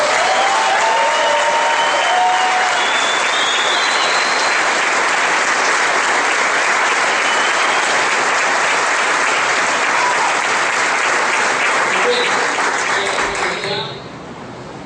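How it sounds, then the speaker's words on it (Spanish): Sustained audience ovation at a business empowerment meeting for Antonio: dense, loud applause with some crowd voices, holding steady for about fourteen seconds before dropping off sharply at the end. "Yo creo que le den una ovación a Antonio esta noche."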